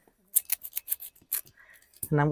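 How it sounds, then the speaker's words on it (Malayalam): Scissors snipping open a plastic package holding fish, a quick run of crisp cuts and rustles, close and fairly quiet, with a voice starting right at the end. "നമുക്കിതൊന്ന് മുറിച്ചു നോക്കാം"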